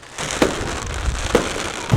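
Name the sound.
fireworks exploding at an independence celebration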